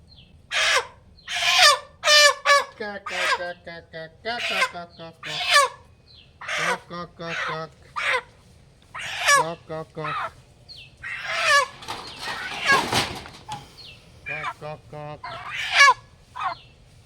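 A hen kept for a homestyle chicken curry clucks and squawks loudly close up, in repeated uneven bursts with short pauses between.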